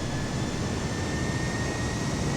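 A steady, loud airplane engine drones in Microsoft Flight Simulator as a continuous broadband hum without breaks, heard alone.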